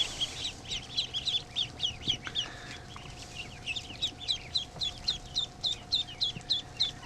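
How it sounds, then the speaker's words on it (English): Newly hatched ducklings in a hatcher, peeping in quick, high, rhythmic bursts of many chirps, close and fairly loud over a faint steady tone. "So that's the last of the ducklings in the hatcher."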